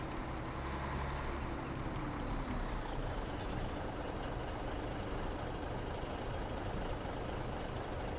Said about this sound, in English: leave the engine running as you do with the diesel while it's filling up by itself